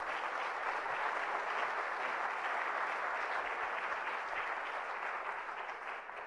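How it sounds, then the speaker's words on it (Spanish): A conference audience at a regional cardiology meeting gives warm, sustained applause for an introduced speaker, a dense even wash of many hands clapping that fades slightly at the end. "Un aplauso, por favor."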